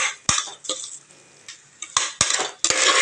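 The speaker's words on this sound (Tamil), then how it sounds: "அடி பிடிச்சிடாமல் கிளறிக்கோங்க" Masala is stirred in oil and ghee in a pan for bottle gourd biryani, with a spoon scraping the metal in repeated loud, close strokes and short pauses under a light frying hiss, and no talking.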